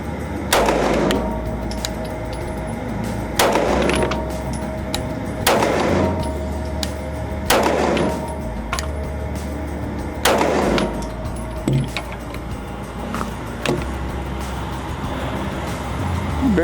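A Canik Mete MC9 Prime 9mm pistol fires about five rounds at outdoor targets, each shot a sharp loud crack with a booming tail, spaced roughly two seconds apart, over faint background noise.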